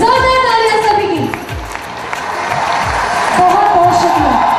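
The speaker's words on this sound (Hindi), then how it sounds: "जोरदार तालियां सभी की।" A crowd at an awards event applauds award winners, with loud clapping and some cheering mixed under music and voices.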